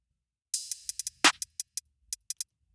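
In a hip-hop type beat, a bright cymbal crash rings out among a run of short, sharp ticking cymbal hits over a faint low thump, close and dry, with no talking.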